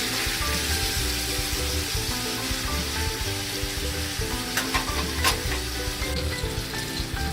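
Lemon chicken sizzles on a grill in a steady, close, continuous hiss and crackle, with a few sharper pops partway through and no talking.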